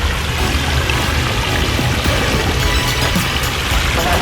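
Water from a rebuilt backyard waterfall feature pours and splashes steadily in a dense, continuous rush, loud and close with no break.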